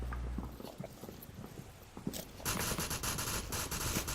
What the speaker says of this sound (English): Kagan's going to hear Zarek's footsteps.